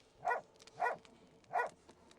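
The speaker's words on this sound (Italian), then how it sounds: "Facciamo abbaiare il cane" In the Broken Sword 2.5 video game, a dog gives three sharp, evenly spaced barks, clear and alone against a quiet background.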